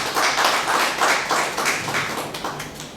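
An audience at a translation and interpreting seminar in Abidjan applauds the experts present, a dense run of many hands clapping together, loud and close, easing slightly toward the end with no talk.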